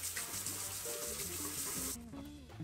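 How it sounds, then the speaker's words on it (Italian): Hot water running from a bathroom tap, a close, steady splashing stream that cuts off near the end, with some faint background tones underneath. "Facciamo venire l'acqua calda."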